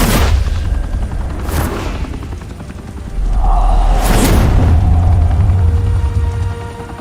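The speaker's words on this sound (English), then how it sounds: "Open fire!" Loud gunfire rings out in a Batman video game: rapid bursts of shots blast close and heavy over a rumbling background, with booming impacts and a sustained roar. No talk.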